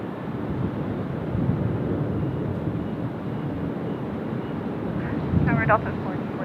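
At Sydney Airport, an aircraft produces a steady, moderately loud broadband roar that continues throughout, with a brief fluttering rise near the end.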